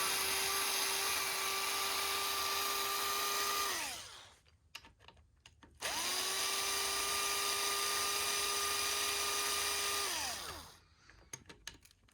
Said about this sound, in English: so I got my drill